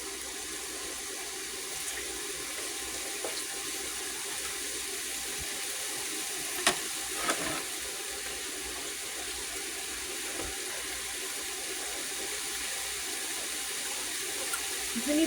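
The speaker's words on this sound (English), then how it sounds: "Wash the hands good." Water running steadily from a kitchen tap for handwashing during chili cooking, a continuous even hiss with a couple of faint clinks midway.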